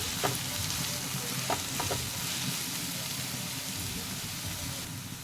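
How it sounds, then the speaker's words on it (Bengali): Onions frying in a pan for aloo chilli, a steady close sizzle with a few soft stirring clicks throughout, no voices. "এইভাবে পেঁয়াজটা 3 থেকে 4 মিনিট তা ভালো করে ভেজে নিতে হবে"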